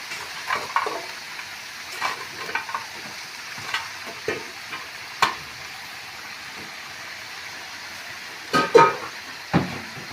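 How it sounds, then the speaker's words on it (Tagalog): Vegetables including string beans, winged beans and moringa leaves stir-fry in a pan, a steady sizzle under scattered scrapes and clatters of a utensil stirring, with sharper clanks near the end. "At ilagay na rin po natin ang ating malunggay."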